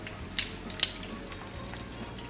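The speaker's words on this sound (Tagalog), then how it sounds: "Kailangan prituhin kasi ito guys." Pork trotters fry in oil for Ilocano-style estofado, a steady hiss of sizzling broken by a few sharp metallic clinks of utensils against the pan, close up with no talking.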